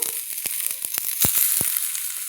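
Katla fish omelette batter sizzling as it hits smoking-hot oil, a steady bright hiss broken by sharp spitting pops throughout, close and fairly loud with no talk.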